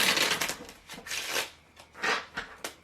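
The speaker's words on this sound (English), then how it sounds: "then I will shuffle it one more time" A deck of cards shuffled by hand, several quick riffling bursts with short pauses between them, close and fairly quiet, no talking.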